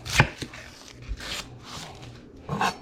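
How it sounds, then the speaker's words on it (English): Big sweet onions being chopped with a knife on a board, a few sharp, close cuts spaced through the moment, loudest at the start and again near the end. "We're gonna cut them onions."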